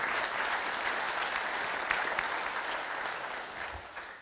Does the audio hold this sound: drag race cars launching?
no